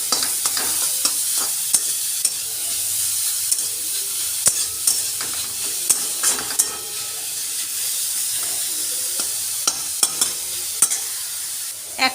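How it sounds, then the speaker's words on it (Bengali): Grated carrot fried in ghee in a pan and stirred, a constant close sizzle broken by frequent sharp clinks and scrapes of the spatula against the pan. "আমি গাজরটা ভালো করে নেড়ে চেড়ে একটু ভেজে নেব।"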